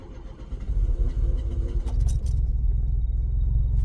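A Peugeot 205 with automatic gearbox starts up and settles into a steady idle, a loud low engine rumble filling the whole stretch with a brief crank-like burst near the middle.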